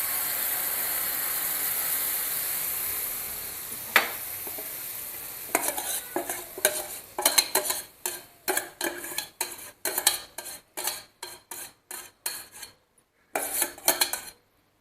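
A spoon stirs thick ragda (cooked dried peas) in a metal kadhai, scraping and clinking in a rapid, uneven series of knocks over a soft background sizzle, close and moderately loud.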